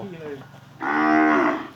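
A cow on a farm at Ban Khok Yang in Buriram province, Thailand, lets out a loud, drawn-out low moo close by, preceded by a softer lowing call.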